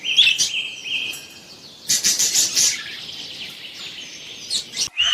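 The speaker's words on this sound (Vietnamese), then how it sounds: "con chim," Bird song fills the stretch with bright, rapid chirps and trills, loud in bursts with short gaps, alone with no voices.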